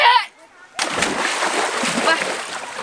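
Someone leaps into a village pond, hitting the water with a loud close splash that churns on for a couple of seconds after a short burst of talk.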